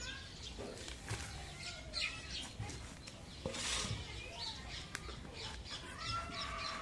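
Domestic country chickens cluck and chirp around a home yard, scattered calls and brief wing flaps at a moderate distance, with faint voices in the background.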